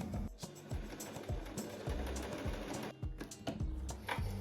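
A sewing machine stitches dress straps in quick rhythmic bursts of mechanical clatter, close and fairly quiet, with brief pauses between runs.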